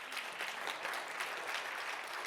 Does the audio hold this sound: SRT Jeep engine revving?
no